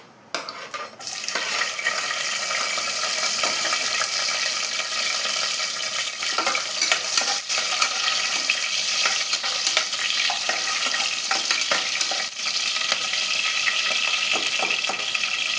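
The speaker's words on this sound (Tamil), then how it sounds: "இப்போது 2 பச்சை மிளகாய் சேர்த்துக்கிறேங்க." Two green chillies fry in oil in a pan while being stirred for chicken dum biryani, a steady close sizzling hiss with frequent scraping and clinking strokes of a spoon, no talk.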